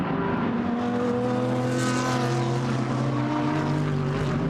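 A GT race car at Brands Hatch during a Blancpain GT World Challenge Europe race roars loudly past, its engine tone sustained and harmonic with a slight pitch shift as it goes by.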